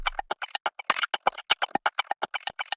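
A sparse percussion loop ticks along, short clicky hits in a quick, even rhythm with small accents, dry and alone.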